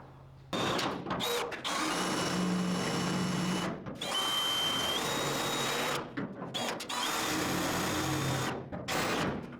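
A power drill works on welds during a 1940 Chevrolet restoration, whirring in long bursts with brief pauses between, its motor pitch shifting slightly, loud and close.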